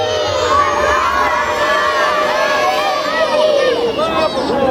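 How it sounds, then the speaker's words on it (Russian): A crowd, many of them children, shouts "Yolochka" together at a city Christmas tree lighting, a loud dense mass of voices and cheering that holds steady for several seconds. "А сейчас, пожалуйста, крикнем сразу. Елочка!"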